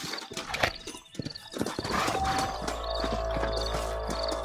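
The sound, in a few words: horses trotting in Red Dead Redemption video game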